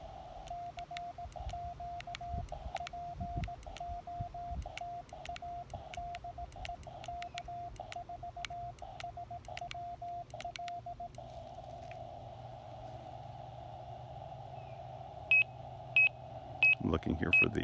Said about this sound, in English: this is gonna make a lot of beeping sounds